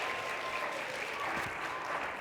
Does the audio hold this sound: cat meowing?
no